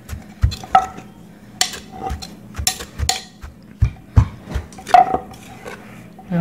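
Lao dried fish dip, jeow pa haeng, is stirred in a bowl with a utensil, giving a series of close knocks, clinks and scrapes in an irregular rhythm against a quiet background.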